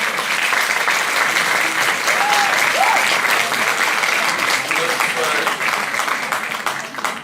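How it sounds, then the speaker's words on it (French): An audience at the Prix Liberté award ceremony applauds, giving sustained, dense clapping with a few faint voices mixed in. It stays loud for most of the seven seconds, then begins to taper off near the end. "Vous pouvez l'applaudir parce qu'il fait un énorme travail qui est très important."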